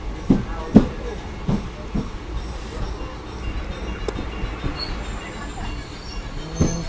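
A train arriving at Vaibhavwadi station on the Konkan line rumbles and clatters close by, with scattered metallic clanks and faint wheel squeal over a steady low roar.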